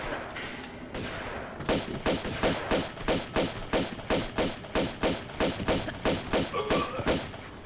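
Rapid bursts of gunfire in the video game Tomb Raider II, about a dozen sharp evenly spaced shots after a brief pause, loud and close, with no talking.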